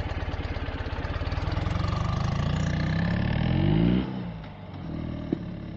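A 2013 Ural Gear Up sidecar motorcycle in Coalition Gray running a loop on a straightaway: a close, pulsing boxer-twin engine note rising in pitch as it accelerates, then dropping off and settling near the end.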